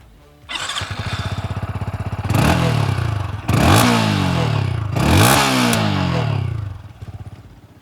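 A Yamaha XSR 155 with its 155cc single-cylinder engine idles, then is revved hard three times, each blip rising sharply in pitch before falling back, loud and close with no talk.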